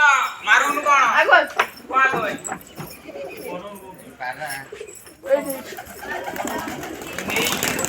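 A flock of pigeons coos and flutters up into flight, wings clapping in bursts, while people talk loudly over and between the birds.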